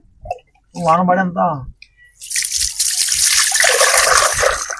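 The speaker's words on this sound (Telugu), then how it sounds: "రోల్ అయితే కొంచెం నీట్గా అయితే కడుగుతాను" A stone grinder gets washed: a brief spoken phrase comes first, then water splashes and runs loudly and continuously over the stone up close.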